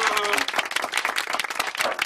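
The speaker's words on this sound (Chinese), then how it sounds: "掌声热烈欢迎我哋嘅女主角家姐" A studio audience on a makeover show breaks into a short burst of dense, lively applause and clapping to welcome the makeover subject onstage.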